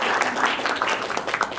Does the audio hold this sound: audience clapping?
yes